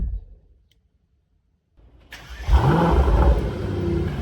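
A 2021 Mercedes E63 AMG sedan fires up after near silence, the engine catching with a starter whirr, then a loud close rev swelling and settling into a deep rumbling idle.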